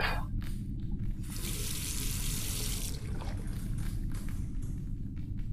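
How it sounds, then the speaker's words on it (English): Water runs and splashes while rinsing a photographic plate in The Last Door, the video game, a continuous close gushing flow with a brighter splashing stretch in the middle. "All that remains is rinse the plate."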